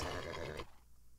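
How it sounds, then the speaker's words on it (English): A horse in the Minecraft video game gives a loud, rough whinny lasting just over half a second, then the sound cuts off to quiet background. "We are getting a horse."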